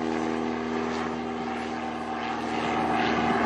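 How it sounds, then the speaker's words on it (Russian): Propeller aircraft flying overhead at an air show in Aktanysh, Tatarstan, a continuous droning engine hum with a steady tone, loud and sustained with slight swelling toward the end. "Самолеты и трюки в небе над Актанышем"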